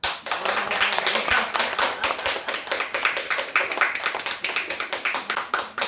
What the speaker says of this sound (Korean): 우리 먼저 미리 한번 축하 박수 한번 드립니다